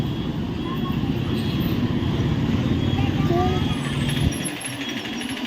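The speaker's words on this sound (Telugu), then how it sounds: "సిద్దిపేట బస్సులే వస్తున్నాయి" Buses and other traffic roar past on a busy road, a loud continuous rumble that fades off near the end.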